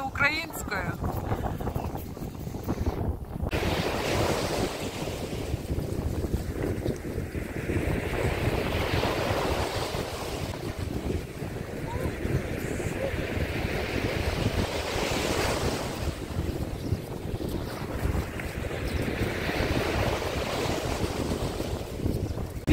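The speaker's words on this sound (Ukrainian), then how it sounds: "Вітер все сильніше і сильніше." Strong wind buffets the microphone beside crashing surf on an Odesa beach, a constant roaring gusty rush that swells and eases over the whole stretch.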